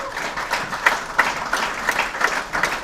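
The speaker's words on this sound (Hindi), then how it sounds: "जोरदार तालियां दोनों के लिए।" Audience applause after two participants are thanked at a talk, steady clapping with scattered sharper claps, fairly close, without voices.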